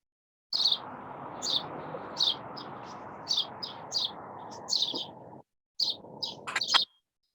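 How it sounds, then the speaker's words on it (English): Recorded bird chirps play through a speaker in a gym during a workout, a string of short bright tweets repeating every half second or so over a steady background hiss, stopping briefly before a final few calls. "I'm just going to switch your birds off because they're irritating me."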